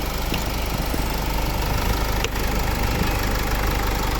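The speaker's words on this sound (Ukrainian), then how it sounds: "Ось робота двигуна." A 2009 Nissan Qashqai+2 2.0 dCi common-rail diesel engine idling steadily up close, with a constant rattling clatter and a brief click midway.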